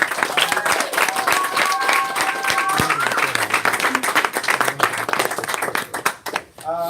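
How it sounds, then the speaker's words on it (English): Audience applause at a taekwondo black belt ceremony, dense clapping from a crowd, loud and steady for several seconds with a voice speaking briefly over it, then tapering near the end. "give them a big round of applause anyway."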